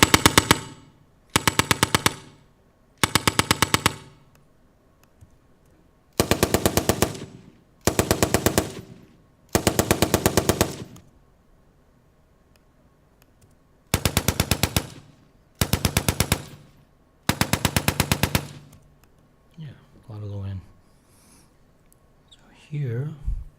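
Weapon gunfire recorded from a far-placed microphone comes as nine loud, separate bursts of rapid automatic fire with short gaps between them, followed by soft voice-like sounds at the end.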